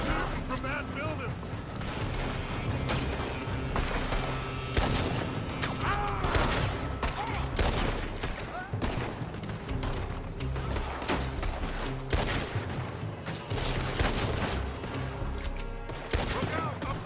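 Rapid, dense gunfire from enemies shooting out of a building in Red Dead Redemption 2, sustained volleys of shots cracking loudly and continuously over the whole stretch amid battle noise, with voices shouting in the mix.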